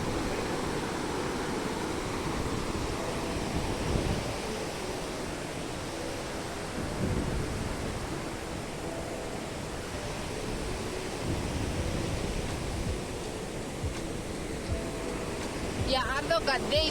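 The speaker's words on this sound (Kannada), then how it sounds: "ಎಷ್ಟು ತೋರ್ಸಂಗೆ ನೀರು ಬರ್ತಾ ಇದೆ ಅಂತ" Water rushes out at KRS dam in a steady, broad roar heard from nearby, a constant wash of noise that swells slightly now and then without a break.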